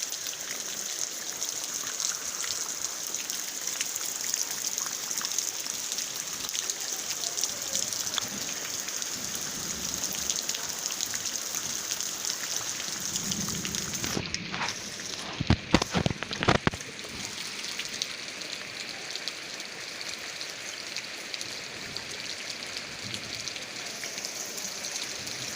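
Steady rain falls at a rural farm, a continuous soft hiss of drops on surfaces with trickling water, with a brief cluster of sharper knocks and handling noises partway through.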